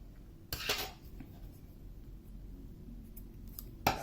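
Scissors snip through crochet yarn on a sunflower bookmark, giving two short, sharp close cuts, one early and one near the end, with quiet room tone between and no talking.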